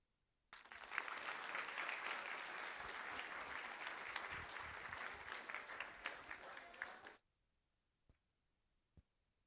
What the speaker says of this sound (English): Let's give Lisa one more round of applause.